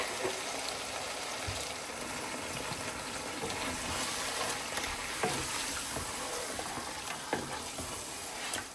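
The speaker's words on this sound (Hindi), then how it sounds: "अभी मैं इसमें ये सारा दही का मिक्सर डाल दूँगी।" Yogurt mixture poured into a pan of sizzling lamb pieces, giving a steady, close hiss of frying and bubbling with occasional soft clicks from stirring, with no voices.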